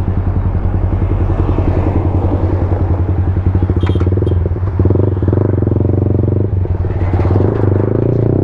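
A Yamaha MT15 motorcycle fitted with a full SC Project exhaust idles and burbles close by, a steady low throaty pulse with a few sharp pops and light clatter throughout.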